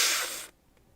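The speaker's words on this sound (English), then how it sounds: "A sharp inhale, like someone is sucking the air through their teeth." A sharp, hissing intake of air through teeth sounds in the horror game Doki Doki Literature Club, loud and close for about half a second before cutting off into near silence.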